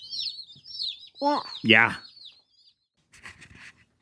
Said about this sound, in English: You love these chickens?